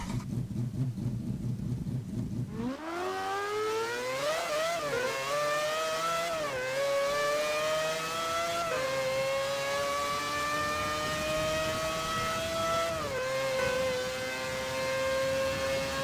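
Car engine revving in the video game Garry's Mod on the Top Gear test track, a loud whining drone that climbs in pitch in several stepped surges, starting after a quieter idle.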